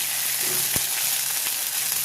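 A spice paste of onion, cumin and ginger sizzles steadily and loudly in hot oil, with a sharp spoon scrape against the pan partway through and a few softer stirring taps.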